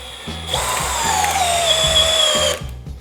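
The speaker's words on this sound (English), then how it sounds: "Let's try a 6-inch lag fastener. Let's try it on speed 2." Cordless hammer drill on speed 2 driving a 6-inch lag fastener into wood, one loud continuous motor whine about two seconds long that strains and drops in pitch as it bites, close, with lower clicks before and after.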